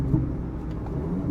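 Volkswagen Polo GTI driving on the road, a steady low engine and tyre rumble close by without much change in pitch.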